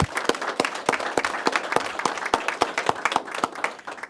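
Applause for a city attorney and her team at a California gun-safety press event, a sparse, sharp run of individual claps at a steady rhythm, close and clear, with no talk over it.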